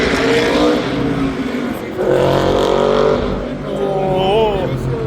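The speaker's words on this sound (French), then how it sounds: "Oh, elle sonne bien les Mustangs." Ford Mustang race cars pull away at the start of a 24-hour race formation lap, a loud, continuous engine roar with passing cars, while people talk over the noise.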